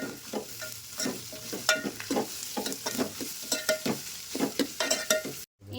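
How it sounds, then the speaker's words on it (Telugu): Carrot and coriander stirred while frying in a pan, a steady run of scraping, sizzling strokes in a loose rhythm, close and fairly loud, ending with a brief drop to silence. "మళ్ళీ కొంచెం ఫ్రై అయ్యాక గోలించుకోవాలి."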